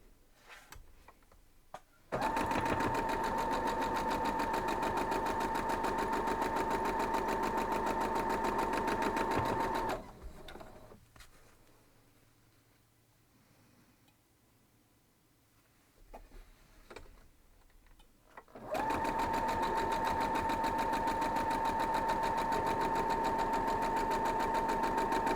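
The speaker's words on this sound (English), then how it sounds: "We'll pin our rows into our block and we'll sew them up." A sewing machine stitches quilt block rows in two long, steady runs of rapid mechanical whirring, close and loud, separated by a quiet pause with faint handling sounds.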